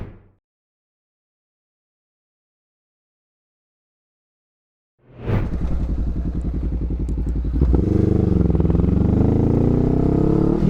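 A Honda NX500 motorcycle with its butterfly throttle limiter removed comes in after about five seconds of silence, its engine roaring loud and close as it accelerates and climbs to high RPM.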